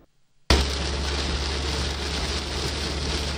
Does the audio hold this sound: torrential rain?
yes